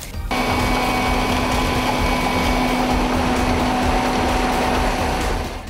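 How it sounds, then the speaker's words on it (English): A ProAll Reimer mobile concrete mixer runs its auger, which is fitted with hardened wear plates, giving a loud, steady mechanical drone with a constant whine from start to finish. "The auger, manufactured with hardened wear plates,"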